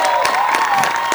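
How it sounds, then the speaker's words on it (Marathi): Loud burst of audience applause and cheering at a Marathi stage comedy show, a dense, continuous roar of clapping and shouts filling the whole short moment. "एकदा जोरदार टाळ्या आपल्या सगळ्यांसाठी झाल्या पाहिजेत"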